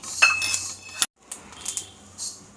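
Metallic clinks and a clatter as a tava of roasted spice masala for Kolhapuri dry chicken is lifted off the stove and set down, a brief silence, then a few more scraping, clanking metal sounds nearby.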